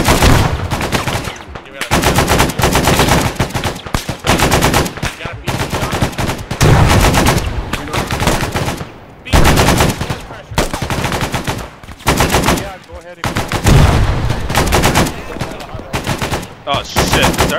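Sustained bursts of automatic machine-gun fire rattle loudly in a video-game firefight, long rapid strings broken by short pauses, dense and close throughout.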